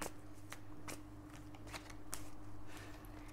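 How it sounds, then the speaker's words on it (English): Tarot cards being shuffled in quick riffling bursts, crisp papery flutters repeating at close range over quiet background hum. "Okay, so I'm shuffling the cards."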